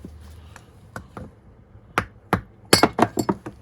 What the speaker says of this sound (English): Just give it a tap with the back end of the screwdriver.